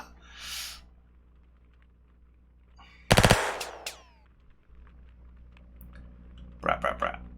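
A short burst of automatic gunfire from the video game Vigilantes, followed by a few quieter echoing shots and a faint later burst, heard over a low background hum.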